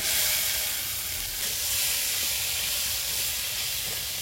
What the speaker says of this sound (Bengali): তেল ছেড়ে দিয়ে গেছে, ভাজা আলু ডাটা দিয়ে দেব